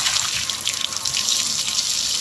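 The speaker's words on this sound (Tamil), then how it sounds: "வாங்க ஃப்ரெண்ட்ஸ் தண்ணி ஊற்றுவோம்" Turmeric water pours in a continuous bright splash, like liquid falling from a vessel, for a couple of seconds. The sound is close and steady, with no voices.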